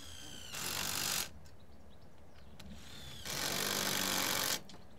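A power drill drives self-drilling screws into metal P-clips on polytunnel staging legs, two loud whirring bursts of about a second each separated by a quieter pause, close to the listener.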